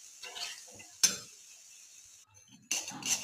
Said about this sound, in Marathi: आपण जे बेसन मिक्स करून ठेवलं होतं ते टाकून घ्यायचं आहे. छान असं फेटून घ्यायचं